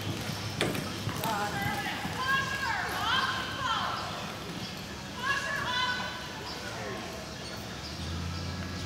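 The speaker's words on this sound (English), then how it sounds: "whose horse is that? That's Chloe's new horse" Horse hooves clip-clop at an easy walk around a stake race, a steady, fairly near rhythm under nearby voices and children talking.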